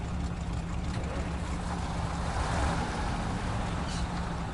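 Limes L400 truck in SnowRunner driving along a steady, continuous low engine drone with broadband rumble, constant loudness throughout and no talking.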